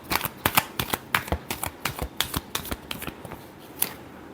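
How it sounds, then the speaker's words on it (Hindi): Tarot cards being shuffled by hand in a quick, riffling flurry of crisp flicks and slaps, close up and loud, with no voices. "Last shuffle."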